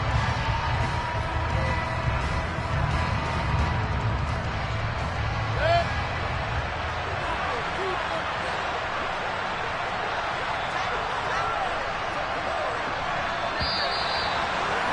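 A home crowd in a Madden 23 football stadium applauds and cheers in a steady, broad roar that holds throughout, with a commentator talking over it.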